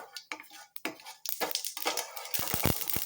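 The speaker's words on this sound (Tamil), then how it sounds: "கடுகு ஒரு நிமிஷம் வெடிக்கட்டும்" Mustard seeds splutter in hot oil: sharp crackles and pops burst irregularly, growing denser toward the end, with a steady sizzle underneath, close and fairly loud, while cooking lemon rice.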